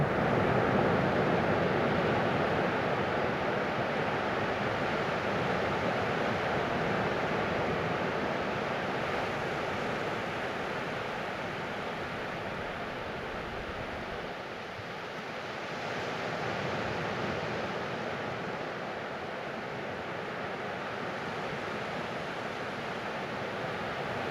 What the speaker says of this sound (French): le son reposant des vagues qui vont et viennent